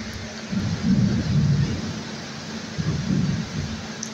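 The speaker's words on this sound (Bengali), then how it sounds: "তো এই এক পশলা বৃষ্টি এরকম মনে প্রশান্তি বয়ে আনে" Rain shower with rolling thunder over the capital after a heatwave, low rumbles swelling twice over a steady hiss of rain, close and fairly loud, no talking.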